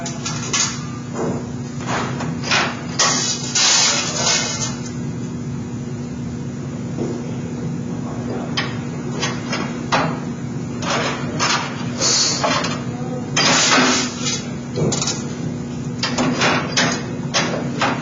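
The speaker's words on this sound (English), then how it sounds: "So I've done my 4 perimeter bends, and I've left them at 180." A sheet metal duct end cap worked on a brake, with sharp metallic clanks and thuds from clamping and bending spread across a steady workshop hum.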